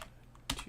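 Computer keyboard typing while playing Cities Skylines: a single close, sharp clack of keys near the end, with quiet room hum before it and no talk.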